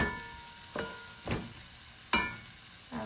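Peas are stirred into potatoes cooking in a pan: a low sizzle under about four distinct spoon scrapes and pushes, spaced unevenly, close and moderately quiet.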